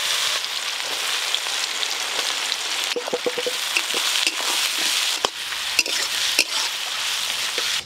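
Chopped onions frying in oil with black cumin seeds: a close, steady sizzle and crackle, broken by the scrape and clack of a spatula stirring the pan, with no one talking.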